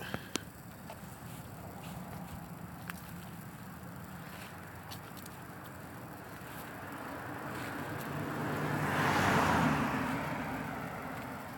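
Road traffic rumbles past steadily at moderate distance, with one car swelling louder as it passes near the end.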